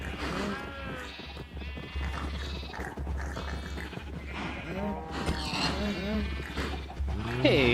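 Pigs on a pig farm in a Minecraft modpack, many overlapping squeals and grunts in a continuous crowded chorus over a steady low game hum, with no talk.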